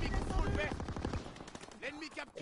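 Rapid bursts of gunfire in the Call of Duty video game, a quick run of sharp shots up front followed by quieter game sounds, with some faint speech-like tones in the background.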